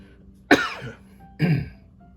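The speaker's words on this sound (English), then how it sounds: "Excuse me if I'm coughing a little bit." Two separate coughs, sharp and close, with a short pause between them and a quiet background.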